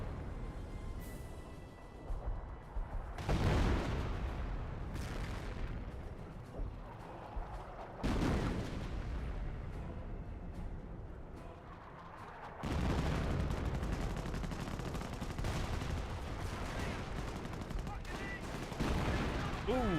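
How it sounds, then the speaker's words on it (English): Artillery barrage in the World War II strategy game Company of Heroes: loud, sustained rumbling blasts and gunfire roll through the battle noise, with heavy bursts arriving in waves and a commentator talking over them. "Here comes the Pummel Barrage."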